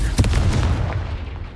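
Confringo fire spell blast in the video game Hogwarts Legacy: a loud, booming explosion with a sharp onset that rolls off into a rumbling decay, heard alone.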